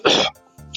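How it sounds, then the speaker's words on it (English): One sharp throat clear with a short cough-like burst, close and clear, followed by a brief softer vocal sound. "Coughing and such."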